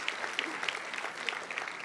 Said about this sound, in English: Everyone else is getting a pre-applause, so I hope you will get one too.